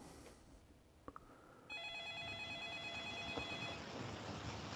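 A telephone ringing while a call is placed: a faint ringback tone with a steady electronic warble starts partway in and continues, preceded by a couple of soft clicks, quiet and without talk.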